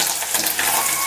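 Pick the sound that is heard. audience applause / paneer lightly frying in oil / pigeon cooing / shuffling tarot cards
paneer lightly frying in oil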